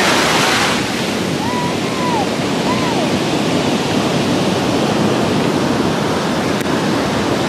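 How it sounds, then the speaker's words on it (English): Ocean waves surge and break on a Bali beach in a constant, loud roar of surf close by, with a few faint whistling tones rising briefly over the wash. "Those waves threaten to take me all in."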